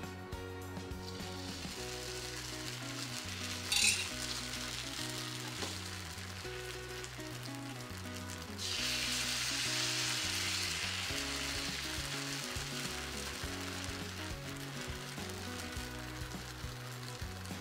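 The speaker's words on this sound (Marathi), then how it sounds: "हे जे पीठ आहे हे व्यवस्थित तव्याच्या बाजूने सोडायला सुरुवात करायची" Varai millet batter sizzles steadily on an oiled hot griddle, a continuous close frying hiss that swells louder about halfway through as more batter spreads, over a rhythmic low background pattern with no talking.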